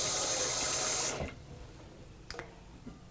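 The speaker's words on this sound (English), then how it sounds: "and in the bottom you put some water" Water runs briefly into the bottom pan of a double boiler for brownie baking, a close, hissing pour lasting about a second before stopping, followed by faint small clinks.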